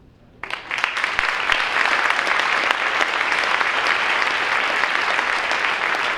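A school band concert audience bursts into applause for graduating seniors, starting abruptly after a brief quiet moment and then holding as dense, even clapping from a large crowd, loud and sustained.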